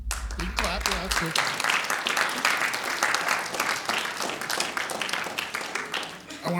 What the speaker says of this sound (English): You can clap, yeah, that's good.